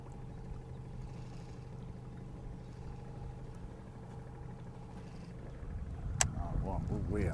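A boat cruising with no wind on Cayuga Lake, a low steady engine drone under faint voices, with a sharp knock and rising water noise toward the end.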